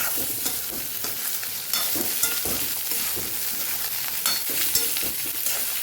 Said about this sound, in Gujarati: અહીંયા મરચું અને બટેકા સુધારેલા છે આપણે ઉમેરી દઈશું એને પણ સરસ આપણે સાતડી લેવાના છે